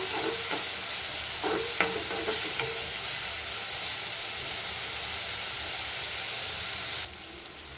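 Chopped tomato fries in hot oil and is stirred in a pan for a bitter gourd gravy, giving a dense, steady sizzle close up with scraping strokes, easing slightly near the end.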